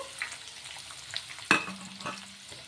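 Onion slices frying quietly in oil, a soft low sizzle with a sharp clatter of stirring midway and light scraping.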